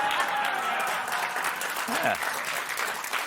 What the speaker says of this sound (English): Get some applause on that one